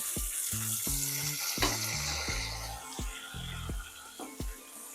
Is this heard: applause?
no